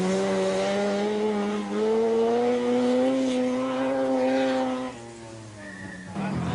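A Mazda works rally car driven by Achim Warmbold on the 1985 Acropolis Rally, its engine holding a strong, steady buzzing note that rises and dips with the revs and then drops away briefly before picking up again.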